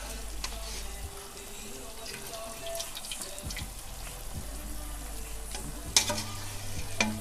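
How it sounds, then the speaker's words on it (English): Spinach is mixed in a pan with soft, quiet stirring and a faint sizzle, plus a few light clinks of the utensil. "now we're just gonna mix up the spinach"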